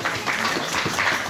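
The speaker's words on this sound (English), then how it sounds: "So a big clap for our wise people." Audience applause after the wise men are placed in the stable scene of a children's nativity play at a farm at Christmas; a short burst of steady, fairly close clapping with no talk.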